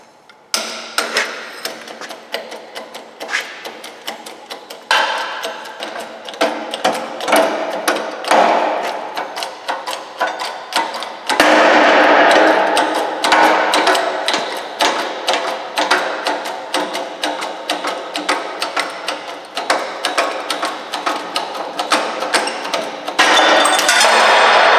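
A Toyota Tacoma wheel bearing being forced out of its housing in a shop press with a socket and bearing knife, giving a steady run of sharp metallic clicks, creaks and clanks that grow louder partway through, with no talking.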